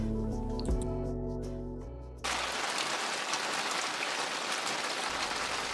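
Steady rain falls as a soft, even wash of hiss that takes over after a fading musical passage, faint and continuous with no voices.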